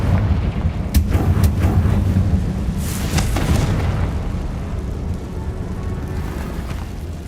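Confringo fire spell exploding in Hogwarts Legacy, with several sharp blasts in quick succession followed by a heavier booming burst that fades into a low rumbling tail.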